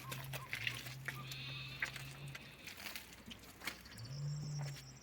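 Sheep in a flock of about fifty young animals bleat twice, a long steady call followed after a pause by a shorter one, over a background of farmyard ambience and faint noise.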